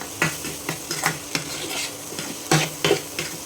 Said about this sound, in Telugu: ఇప్పుడు దీంట్లోకి మన టమాటాలు ఉల్లిపాయలు ఫ్రై చేసుకున్నాం కదా అది కూడా యాడ్ చేసుకొని బాగా మిక్స్ చేసుకున్నాం